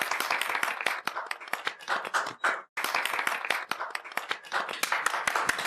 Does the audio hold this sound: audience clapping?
yes